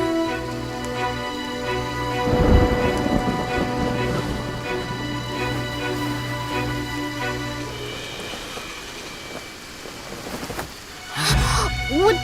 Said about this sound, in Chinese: 外面打雷了